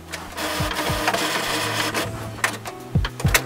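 A Canon PIXMA PRO-200 photo printer runs a template print job, its mechanism whirring steadily at close range with repeated low motor sweeps and sharp clicks and clunks of the carriage and paper feed.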